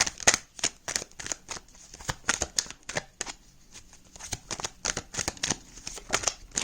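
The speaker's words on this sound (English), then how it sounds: "so I'm gonna shuffle now" Tarot cards being shuffled in quick bursts of crisp riffling snaps, repeated many times in an uneven rhythm, close and fairly quiet with no talking.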